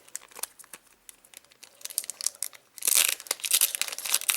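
A Pokémon booster pack is torn open by its easy-open side: light crinkling and small tearing sounds at first, then a louder, sustained rip of foil wrapper near the end, close up and without talk.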